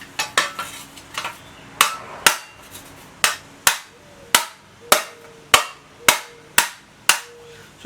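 A hammer strikes the metal cover of a Husqvarna push mower again and again, a series of about fifteen sharp, ringing, uneven blows, close and loud with no talk.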